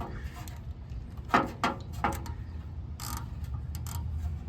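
Ratchet clicks from a 5/8 spark plug bit on an extension, loosening a spark plug on a Subaru Sambar: a few loud ticks near the middle, then scattered lighter clicks over a low steady hum.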